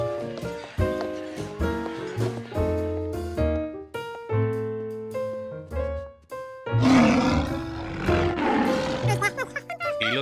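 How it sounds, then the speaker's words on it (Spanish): Cartoon lions roar loudly, the roars rising over a busy musical background with no other sounds standing out. "Y los leones rugían demasiado fuerte."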